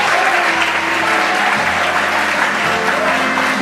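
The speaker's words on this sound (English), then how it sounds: "So a warm round of applause, please, ladies and gentlemen, for our guest artiste" Loud, dense theatre audience applause for a guest artiste, a London male impersonator, steady and enveloping throughout, with faint musical tones and voices beneath.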